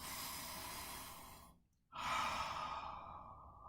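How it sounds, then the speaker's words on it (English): Breath during a meditation session: a long, steady airy inhale, a brief pause, then a strong relaxed exhale rushing out and fading away, close and alone with no talking. "For the most part in this meditation, I do an active inhale"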